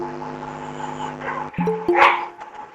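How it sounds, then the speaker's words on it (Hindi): A dog barks in the background of a live online class, giving a few short, abrupt yaps after a stretch of steady humming noise. "ये डॉगी किसके वहां भौंक रहा है?"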